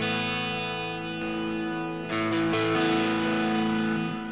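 A sustained, overdriven electric guitar chord rings out with reverb through a Neural DSP Plini Archetype plugin's drive pedal, then shifts to a new chord midway, thick and distorted.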